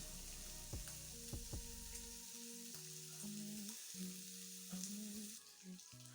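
Pork browning in a pan for wet fried pork, a quiet continuous sizzle and crackle with some clinks and tonal hums from the kitchen over it, faint throughout.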